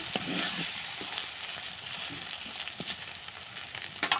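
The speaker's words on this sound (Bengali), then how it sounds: "এই দেখুন আমি ভালো করে নেড়ে নিচ্ছি" Chicken with chopped green chilies sizzles in a pan while being stirred, a quiet steady frying hiss broken by soft scrapes of the spoon.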